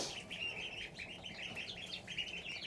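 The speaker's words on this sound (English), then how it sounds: "12 ducklings still" Young ducklings peep in a steady, busy chorus of high chirps from a brood of about twelve in a poultry pen, close and continuous with no talking.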